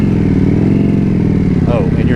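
Close, steady rumbling drone of a 2025 Indian Scout Bobber motorcycle engine while riding, loud and continuous, with someone talking over it.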